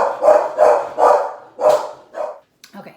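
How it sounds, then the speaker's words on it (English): A dog barks five times in a steady run, loud and close, followed by a faint softer yip; no talk over it. "now that my dog's done barking"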